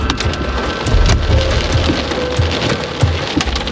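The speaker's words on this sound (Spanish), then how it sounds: "nos agarró la lluvia con granizo" Heavy rain with hail pours down in Tangamanga park in San Luis Potosí, a dense, loud, continuous roar of drops with scattered sharper impacts.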